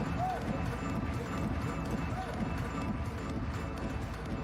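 Horses' hooves pound during a carriage driving competition at an indoor arena in Leipzig, a steady galloping patter under continuous commentary.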